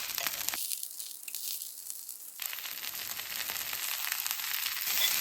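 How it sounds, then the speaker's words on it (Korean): Eggplant pieces frying skin side down in an oiled pan: a continuous, fairly quiet crackling sizzle with fine popping texture throughout, growing slightly louder toward the end, with no talking. "껍질 부분부터 구워주는 게 좋으세요"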